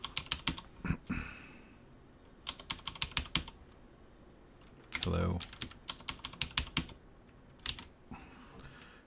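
Someone types on a computer keyboard in irregular bursts of sharp, close key clacks separated by brief pauses, with a quick spoken word in the middle.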